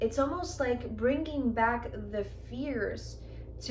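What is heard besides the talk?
No distinct noise like a dog, phone or traffic.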